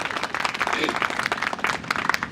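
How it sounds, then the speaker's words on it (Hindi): Applause from the crowd at a Hindi kavi sammelan poetry recital in Barabanki, a dense, continuous patter of many hands lasting a couple of seconds, fairly close, with some voices mixed in. "तालियां बजी, लेकिन तालियों का घनत्व तो थोड़ा कम है।"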